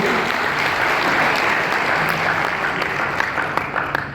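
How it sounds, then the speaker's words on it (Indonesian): An audience at an Indonesian nursing association opening ceremony in Bali applauds, a dense, loud wash of clapping that holds steady and then tapers off with a few scattered claps at the end. "Beri aplaus kepada Bapak Ibu."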